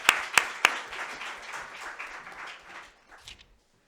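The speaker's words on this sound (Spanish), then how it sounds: "Y un aplauso para" Audience applause at a magazine presentation in a Jerez cultural hall: a few sharp claps open a short, dense burst of clapping that tapers and fades out within a few seconds.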